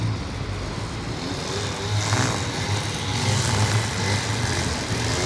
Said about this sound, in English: that's the lawnmower